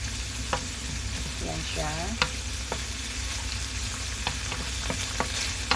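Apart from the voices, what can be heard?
ham being sautéed in a pan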